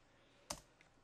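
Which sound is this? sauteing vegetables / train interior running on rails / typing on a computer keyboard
typing on a computer keyboard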